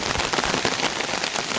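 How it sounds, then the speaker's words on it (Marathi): Monsoon rain pours steadily over a Konkan village, a dense, even hiss of drops striking surfaces at close range with no pauses and no voices. "पाऊस गावाला चालू झाला आहे"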